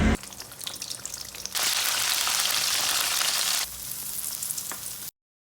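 Milkfish and vegetables fry in a hot pan, a loud steady sizzle that surges sharply louder midway, then eases back before cutting off.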